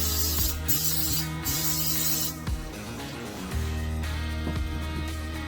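Nonstick cooking spray hisses into a pan in two short bursts, followed by softer clatter and rustling nearby.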